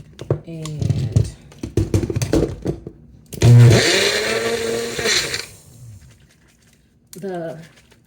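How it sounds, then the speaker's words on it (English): A Magic Bullet blender whirs loudly for a couple of seconds while blending a pineapple and spinach smoothie, preceded and followed by clattering and handling noises and brief voices. "we're just going to put it in the blender. I have a magic bullet"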